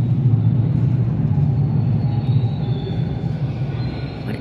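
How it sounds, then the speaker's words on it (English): A subway train rumbles past overhead, heard from below in an abandoned underground station: a loud, steady low roar with metallic wheel squeal running through it, fading slightly toward the end. "It is quite loud down here when the train is going up above."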